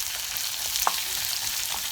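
Onions frying in a pan for egg curry, a dense, even hiss of sizzling oil up close with a few small pops, no talking.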